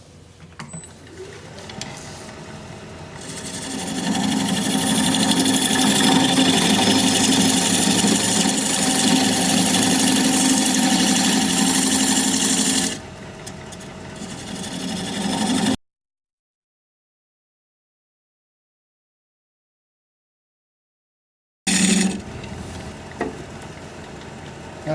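A wood lathe cuts a recess into a dogwood dish, a steady loud whir and scraping that builds after a few seconds and holds, then drops away before a gap of silence and a brief return.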